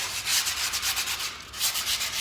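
Steady, gritty scraping strokes, close and loud, as skateboard grip tape edges are sanded back and forth in quick rhythmic passes with no talking.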